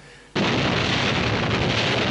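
A grenade explosion in the 1963 film From Russia With Love, a sudden loud blast that stays as a sustained, dense roar of rumble and debris to the end, nearly alone with no talk.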